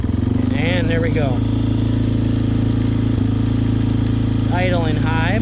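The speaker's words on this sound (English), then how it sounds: "Idling high, but so I can" Old carbureted air-cooled dirt bike engine idling high after a cold start, a steady loud close drone with a person speaking over it at the start and end.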